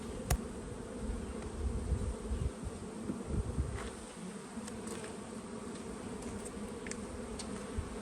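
Honeybees buzz steadily around an open hive, a dense, continuous hum close by, with brief sharper passes as individual bees fly near.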